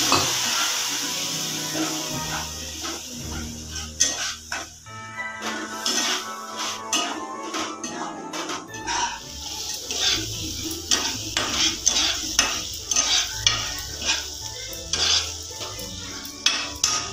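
Spices (turmeric, chilli, coriander and cumin powder) stirred in a frying pan: a spoon scrapes and clinks against the metal over a steady sizzle, with irregular knocks and scrapes close by.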